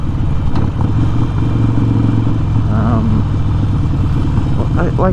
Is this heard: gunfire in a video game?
no